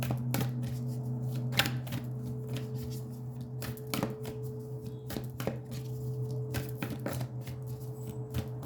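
Tarot cards being shuffled by hand in a quiet room, soft riffling with sharp intermittent snaps and taps over a low steady hum, fairly faint.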